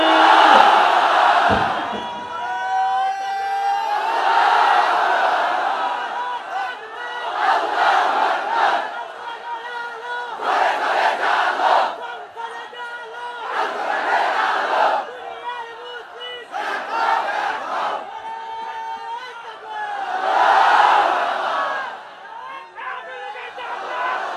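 A large crowd at an Islamic religious sermon chants Allahu Akbar in response to a takbir call, with loud, repeated rhythmic group shouts swelling and falling in waves throughout.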